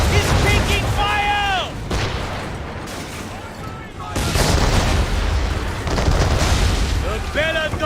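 Cannon fire booms around the ship Belladonna in Assassin's Creed 3, heavy low blasts rolling under a dense, noisy sea battle with shouting voices breaking through now and then.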